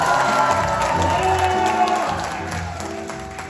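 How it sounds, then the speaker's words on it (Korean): A hospital concert audience of patients and fans claps and cheers for the chairman, loud and close with whoops, over lingering musical tones. The applause fades toward the end. "우리 이사장님께 큰 박수 부탁드리겠습니다"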